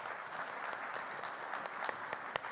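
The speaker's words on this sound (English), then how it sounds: "A little round of applause for Lonnie." Applause breaks out for a panelist being welcomed at a cybersecurity education and workforce panel, a soft, steady patter of hands from a modest audience, fairly distant, with a few sharper individual claps standing out.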